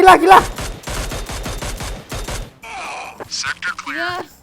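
Rapid bursts of game gunfire crackle for a couple of seconds, followed by whooshing, chirpy electronic effects and a faint gasp.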